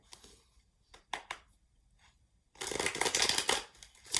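Quick riffling tarot card shuffles: a few short soft bursts, then a dense, louder continuous shuffle running to the end, close by.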